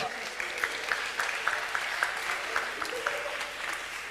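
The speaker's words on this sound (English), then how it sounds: "The crowd goes wild." Crowd applause at a live shooting-event line-up, a steady wash of clapping with a few sharper individual claps standing out, fairly loud and continuous.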